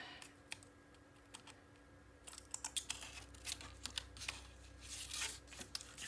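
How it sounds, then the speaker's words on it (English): Strips of adhesive tape pulled free from the inside left panel of a paper-crafted mini album, giving soft crackly peeling and crinkling sounds in scattered short bursts, close up, with no talking. "I can just reach in here and pull this tape out of here"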